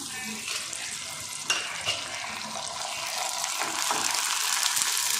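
Small hand-pinched pieces of homemade tomato vadagam fry in hot oil, a continuous crackling sizzle that grows slightly denser and louder toward the end, with occasional soft knocks and no speech.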